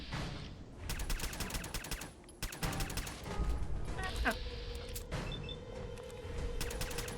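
Gunfire in Fallout 4 on Survival mode, with repeated volleys of rapid shots in several bursts, moderately loud against the game's background sound, with someone speaking at times.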